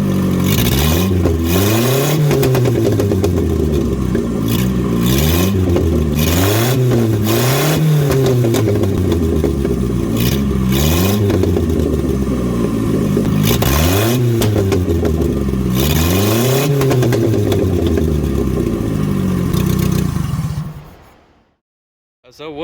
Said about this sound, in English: I'm gonna give it a couple revs, you know, just baby stuff, just so you guys can hear the engine